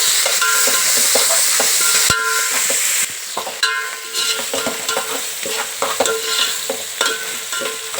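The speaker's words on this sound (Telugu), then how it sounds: "ఉల్లిపాయ త్వరగా వేగడానికని ముందే వేసుకుంటున్నాం" Sliced onions frying in a pan with salt and ginger garlic paste, a continuous close sizzle broken by repeated scraping stirs of a spoon.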